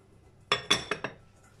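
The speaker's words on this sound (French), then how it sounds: "je remets mon couvercle" A metal lid set back onto a cooking pot before it returns to the oven, a quick cluster of three or four bright clinks and rattles, close and clear, then quiet.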